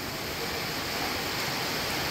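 A river swollen and running hard after days of heavy rain, rushing nearby as a loud, unbroken roar of churning water with no voices.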